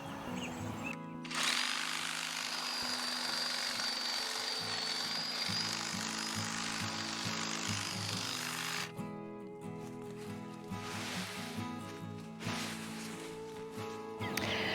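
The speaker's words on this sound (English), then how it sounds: "All right, so hedge trimmer it is for the day." A hedge trimmer cuts through comfrey plants on a farm, a steady loud motor buzz running almost without pause, with the blade's pitch and load shifting as it works through the growth.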